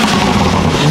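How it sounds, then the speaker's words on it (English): A BMW F80 M3 engine revs loud and close with turbo spool, a dense continuous roar that holds strong for about a second with no talking. "I like how you can hear the turbo spool too"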